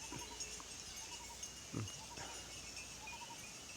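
Goats in a farm pen, with a few faint bleats rising briefly over a steady background of rural ambience and insect-like hiss, one slightly louder call near the middle.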